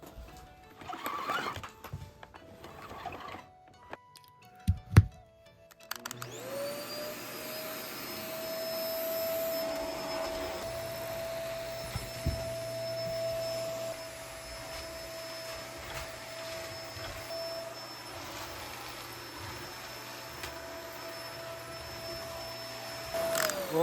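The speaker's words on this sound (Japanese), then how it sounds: "しゃあ、掃除機かけるか。" A household vacuum cleaner switches on after some handling clatter in a cluttered room being tidied, then drones steadily with a high whine and motor hum, close and loud for the rest of the stretch.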